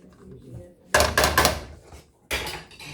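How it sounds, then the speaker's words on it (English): A metal pot lid clatters down onto a pot of fideo with ground beef on a stovetop. One rattling clank is followed by a second shorter clink, after a soft murmur of voice. "Put the lid back on here."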